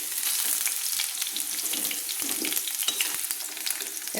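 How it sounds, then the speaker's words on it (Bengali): Potatoes fry in oil in a pan that had been covered, a dense, even crackle and hiss close by, punctuated by light stirring taps and spoon scrapes, with no voices. "আমি চাপা দিয়ে কিন্তু 1 মিনিট মতো আলুগুলো ভেজে নিলাম।"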